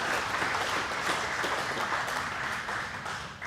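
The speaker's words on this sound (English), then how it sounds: "We'll give him a round of applause" Banquet guests at the Springdale Athletic Hall of Fame applaud an inductee, a close, continuous wash of many hands clapping that holds steady before easing slightly at the end.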